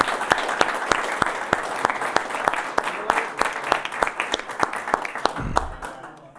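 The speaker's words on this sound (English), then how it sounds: "if we could just give a round of applause for Vinny" A crowd applauding steadily, many hands clapping together in a dense, even patter that fades out toward the end.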